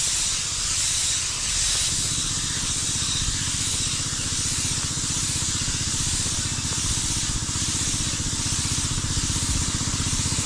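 A pesticide sprayer nozzle hisses continuously, a loud steady spray held close for several seconds, with a low rhythmic pumping or motor drone underneath and no talking.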